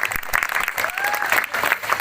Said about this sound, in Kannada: ಎಲ್ಲರೂ ಜೋರಾದಂತ ಚಪ್ಪಾಳೆ